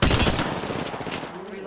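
Rapid gunfire in a shooter video game, a sharp loud burst at the start followed by a fast rattling string of shots that trails off, with a voice briefly heard underneath.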